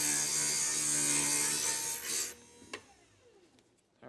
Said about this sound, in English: Now this one I'm going to solder, I'm going to grind down a little bit more.